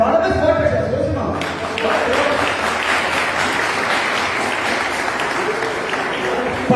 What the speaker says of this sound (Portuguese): Alessandro, aplauda Jesus, irmão.